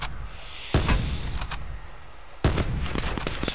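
Two sharp, loud gunshots ring out about two seconds apart in Call of Duty: Black Ops 4, each followed by a brief echoing tail over low background game noise.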